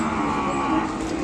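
An Ongole breed calf, pure white with a small head and large ears, lets out a steady, loud moo held through the whole moment, close by with farm ambience behind.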